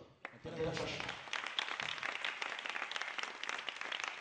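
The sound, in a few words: audience applause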